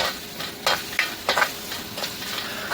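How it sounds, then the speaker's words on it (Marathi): Drumstick vegetable with salt frying in a pan inside a truck cab, stirred in short scraping bursts over a steady close sizzle. "हे मीठ लगेच थोडंसं फ्राय करून"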